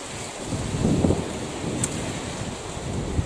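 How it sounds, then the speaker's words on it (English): Wind gusts across an open kitchen garden, a steady broadband rush buffeting the microphone and swelling briefly near the middle, with no voices. "here comes more wind"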